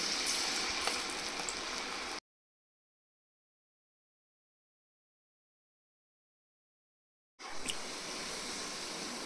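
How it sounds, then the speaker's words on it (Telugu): Cauliflower (gobi) pieces deep-fry in hot oil with a dense, steady sizzle. The sound cuts out to complete silence for several seconds, then the same bubbling crackle resumes. "ఇప్పుడు మనం గోబీని వేసుకొని డీప్ ఫ్రై చేసుకుందాం"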